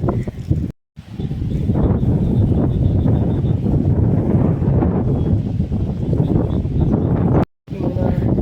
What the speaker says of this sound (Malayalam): കാറ്റ് എങ്ങനെയുണ്ട്